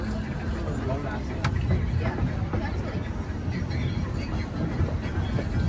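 A Disneyland Railroad train rolls along its rails with a steady low rumble and faint wheel clatter, a soft murmur of passengers underneath throughout.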